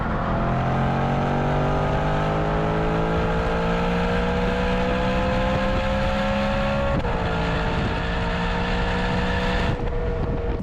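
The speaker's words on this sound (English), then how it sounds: "right now, I'm driving on the highway" BMW E92 M3 with automatic transmission cruising on a highway, a steady loud engine drone with rising pitch through a gear, a brief dip near seven seconds and again near the end, with constant road and wind roar and no talk.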